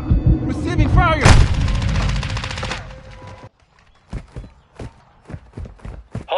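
Gunfire in a Call of Duty-style shooter, a loud sustained stretch of heavy firing and blasts that fades out, followed by a series of sharp separate shots spaced apart.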